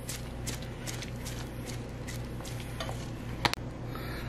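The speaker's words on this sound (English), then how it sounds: "And then we're going to give that a good mix through." Shrimp being tossed with Parmesan and Cajun seasoning in a bowl, a soft, steady stirring and rubbing with light scraping taps and one sharp clink of utensil on dish near the end.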